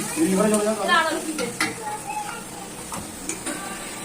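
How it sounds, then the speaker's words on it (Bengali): Spices sauté for a very spicy meat curry, with chilli paste in the pan, making a close sizzle and quick stirring scrapes as a voice talks briefly at the start, then frying continues alone. "বন্ধুরা প্রচুর ঝাল দিচ্ছে মশলা কষানো"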